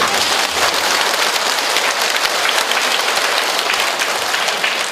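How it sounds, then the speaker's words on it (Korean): Congregation applause during a Catholic priest's talk, a dense, loud and continuous wash of clapping that holds steady throughout. "박수 치시는 거예요."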